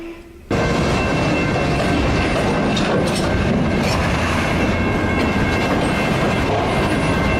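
A train striking a truck on the tracks and carrying it along, a sudden loud onset after a brief quiet, then a sustained roar of rolling wheels and grinding metal with squealing tones, no voices.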